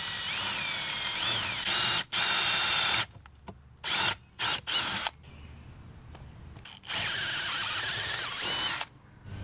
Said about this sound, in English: Then we're going to go ahead and drill out the holes.